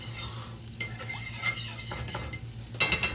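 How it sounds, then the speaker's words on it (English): Scrambled egg is stirred in a frying pan, soft scraping and utensil clicks over a low sizzle, close up, with a few louder knocks at the end. "I'm just gonna stir this around a little bit."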